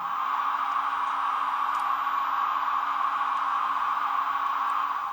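A Heljan Class 33 model diesel locomotive's sound-fitted roof fan whirs as a steady, even hiss-like drone, continuous and close throughout with no breaks or changes.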